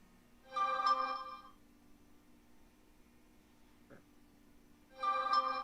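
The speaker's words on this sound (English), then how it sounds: "My phone was going off." A mobile phone rings in two short, loud electronic bursts a few seconds apart, with quiet room tone and a small click between them.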